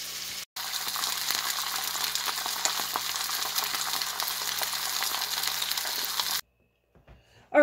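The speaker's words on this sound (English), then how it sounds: "what I'm doing is just browning some pork chops that we received from the pantry" Pork chops browning in a hot pan give a steady, dense sizzle that runs for several seconds and then cuts off abruptly into near silence.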